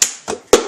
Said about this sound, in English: You clap 2 times, 1, 2.